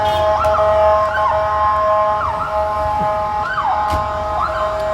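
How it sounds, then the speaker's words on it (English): An ambulance siren wails steadily nearby on a street in Polanco, Mexico City, its rising and falling tones repeating over a constant background hum. "we always say when we hear an ambulance"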